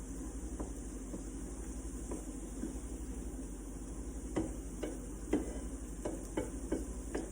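Cream cheese being stirred into spinach in a pan, a soft steady scraping with scattered spoon taps and clicks over a low sizzling hum.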